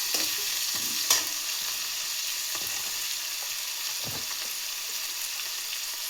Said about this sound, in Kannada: ಸೊ ಟೊಮೊಟೊ ಹಾಕ್ತಿದ್ದೀನಿ. ಚೆನ್ನಾಗಿ ಒಂದ್ಸಲ ಮಿಕ್ಸ್ ಮಾಡ್ಕೊಳ್ಳಿ.